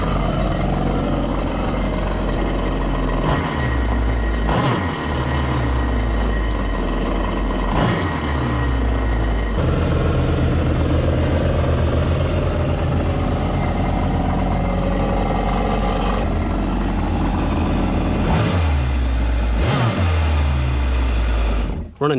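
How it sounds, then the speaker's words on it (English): Loud, steady engine drone from a Kawasaki Ultra 250X jet ski with a rough mechanical chatter from its jet pump, recurring rumbling surges, and no clear talking. "This is making some noise from the jet pump unit itself"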